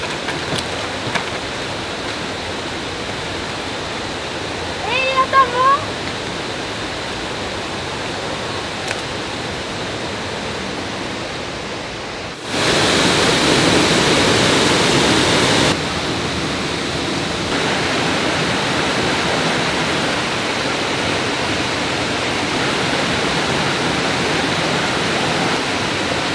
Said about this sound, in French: j'arrive pas à croire une cascade ici